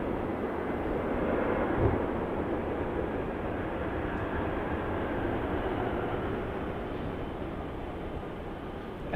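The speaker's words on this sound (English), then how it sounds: "looks like we've got the Jetstar A320 here taxiing over, most likely to runway 27 for its departure" A Jetstar Airbus A320 taxis toward the runway at Melbourne Airport in heavy wet weather, its faint, steady jet whine blended into a broad wash of rain and ambient noise, with no talk.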